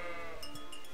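Sheep bleat in the video game Kingdom Come Deliverance, a few short faint calls over a steady soft game ambience.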